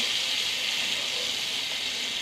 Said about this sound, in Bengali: অল্প একটু পানি দিয়ে দিলাম